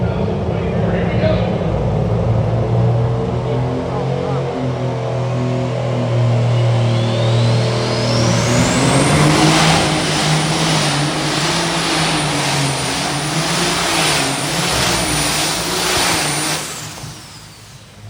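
Pulling tractor revving hard on a tractor pull run at the National Farm Machinery Show championship in Louisville, a loud droning engine that climbs into a high whining roar and holds, with an announcer talking over it.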